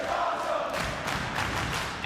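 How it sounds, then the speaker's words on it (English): A wrestling arena crowd roars and cheers for three luchadors, a broad, sustained mass of voices that swells slightly partway through. "The crowd is on their feet, showing their appreciation for these three men"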